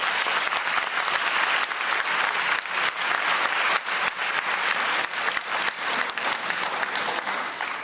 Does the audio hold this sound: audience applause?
yes